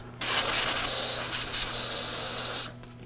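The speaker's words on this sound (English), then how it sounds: "I'll generally spray the carburetor off" A steady spray of carburetor cleaner hisses continuously for about two and a half seconds, close and loud, with a brief sputter partway through before it cuts off, while cleaning an Echo trimmer carburetor.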